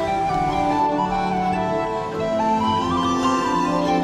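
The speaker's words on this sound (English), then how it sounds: "there's something about thunderous rushing water that just draws your attention" Thunderous rushing water from a waterfall in the Southern Scotland countryside, a loud, steady broadband roar that holds without a break from start to end, close by and heard alone with no voices.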